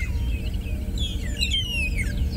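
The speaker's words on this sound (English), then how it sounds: "you can see the effort it takes that bird to bellow out that sound so that it's heard all around" Loud, ringing calls of a magpie shrike in the wild, a few clear sliding whistled phrases delivered close over a steady low background hum.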